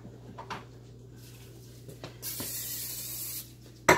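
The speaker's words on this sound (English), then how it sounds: "let me spray this pan real quick" A can of cooking spray hisses onto a pan in one steady burst of about a second, framed by light clattering and rubbing sounds and a sharp knock at the end.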